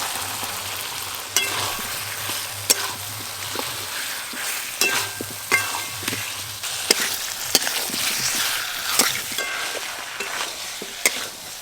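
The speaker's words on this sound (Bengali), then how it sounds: "ভেজে রাখা আলু দিয়ে মশলার সঙ্গে আরেকটু ভালো করে কষবো।" Fried potato pieces stirred into spice masala in a pan, with a steady soft sizzle and repeated scraping and clacking of the spoon at an irregular rhythm, close and fairly quiet.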